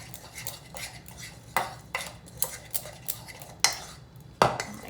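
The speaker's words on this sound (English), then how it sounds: "And you just mix those up really well." Filling seasoned with allspice is mixed with a utensil in a bowl, giving a series of sharp clinks and scrapes against the bowl at an uneven pace, close and clear, with no talking.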